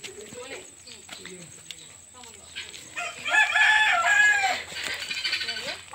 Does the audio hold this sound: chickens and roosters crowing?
yes